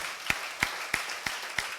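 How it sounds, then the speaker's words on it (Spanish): Five evenly spaced, crisp claps ring out in a church service, one every third of a second, fairly faint against a quiet background with no talk. "Fuerte ese aplauso para el Señor Jesucristo."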